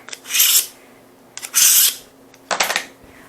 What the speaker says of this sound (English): let me just sharpen my knife, because this one has not been sharpened in a while